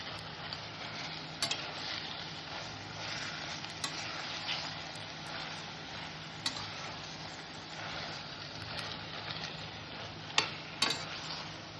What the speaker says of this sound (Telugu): ఇలాగా బాగా ఇది నూనెలో మగ్గించుకోవాలి టమాటాలు పచ్చిమిరపకాయలు ఎండుమిరపకాయలు అన్నీ వేగాయి కదా